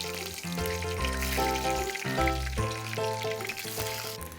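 Halved green chillies sizzle loudly in hot oil for a few seconds, a steady close frying hiss with bubbling crackle throughout and no talking.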